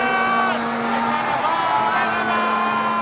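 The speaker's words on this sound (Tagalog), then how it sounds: "sigaw ng mga tao." A crowd of people shouting together, a continuous dense roar of many voices with no pauses, loud and close throughout.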